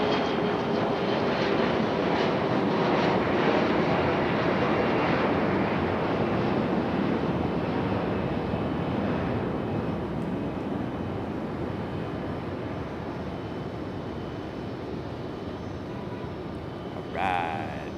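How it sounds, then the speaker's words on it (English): A CRJ regional jet takes off from the runway at Raleigh-Durham airport at night, a steady broadband engine roar heard from a distance that slowly fades. "A little CRJ getting off the runway as quickly as possible"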